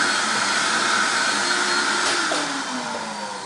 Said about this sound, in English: Run a vacuum cleaner, not a problem.